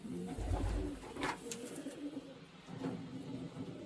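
Young racing pigeons coo softly at a loft, with low, soft calls recurring over a constant background hiss and faint rustling.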